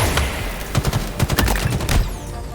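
Noob combo weapon fire in Halo Infinite ranked multiplayer: a rapid burst of sharp, loud gunshots clustered in a stuttering volley, close and dominant, with no talk over it.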